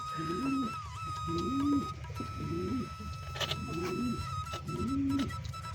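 Giribaz pigeons coo inside a coop, about five rhythmic, rolling coos at a steady pace. They sound close by, over a faint constant background hum.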